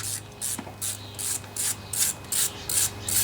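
A ratchet turns a 10mm socket while removing the fuel pump from a Kohler Command engine. Eight or so quick, close bursts of clicking repeat in an even rhythm over a faint steady hum.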